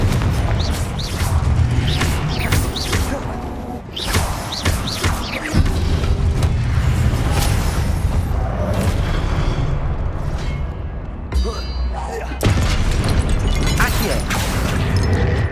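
Confringo fire-blast spells explode repeatedly in the wizarding game Hogwarts Legacy, with loud booming blasts and crashing debris in a dense, continuous battle din and someone shouting intermittently.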